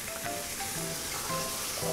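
Steady sizzling and frying with faint clinks of stirring as spicy seafood noodles are stir-fried in a hot wok, a busy hot-pan sound with no voices.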